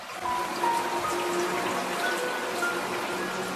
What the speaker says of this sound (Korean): 그 광야 어딘가에 비가 내리기 시작해요.